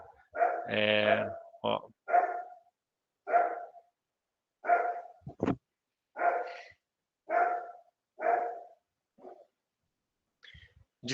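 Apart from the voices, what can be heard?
dogs barking at people in the street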